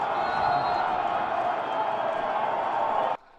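Dense, steady roar of a large crowd in the stands at a high school Class AA football final, Lancaster vs Bennett, loud and continuous for about three seconds before cutting off abruptly.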